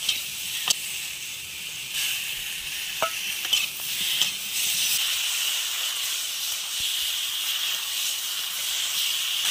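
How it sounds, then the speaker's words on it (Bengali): Tomatoes frying with chili and turmeric powder while being stirred in a pan, a steady hiss of sizzling oil with a few sharp ladle taps early on, continuous and moderately close. "আমি ওই লঙ্কার গুঁড়ো আর হলুদ গুঁড়ো দিয়ে দিয়েছি, দিয়ে একটু ভালো করে নাড়িয়ে দিচ্ছি"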